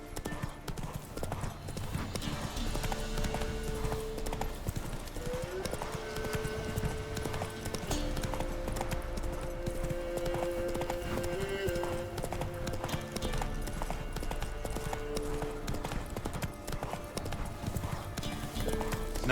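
Roach, a horse in The Witcher 3 video game's Velen region, clip-clops steadily at a walk through the whole stretch, hoofbeats sitting over a continuous music and ambience bed, with a brief spoken line near the start.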